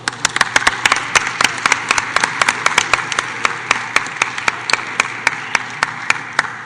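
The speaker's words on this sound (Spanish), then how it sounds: "podamos brindarles un caluroso aplauso" Scattered clapping breaks out in a parliamentary chamber, distinct individual claps in an uneven rhythm rather than a dense roar, fairly close over a quiet room hum.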